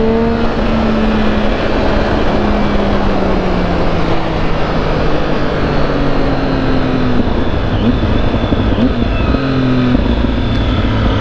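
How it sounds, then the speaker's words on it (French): A car's exhaust drones loudly and continuously as the engine climbs through the revs, its pitch rising steadily with a few shifts along the way; the car has sharp, almost brutal brakes. "cet échappement, quand on commence à le monter dans les tours, là, il fait une sonorité vraiment géniale"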